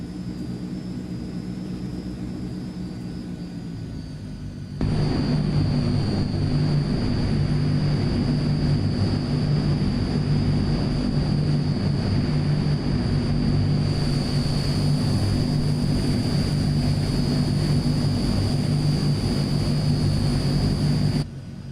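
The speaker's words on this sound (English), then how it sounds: "Cleared for takeoff runway 11." Transall C160 twin-turboprop cargo plane in a flight simulator game, a steady droning engine roar that swells louder after a few seconds and holds throughout as it powers up for takeoff on the runway, with no talking.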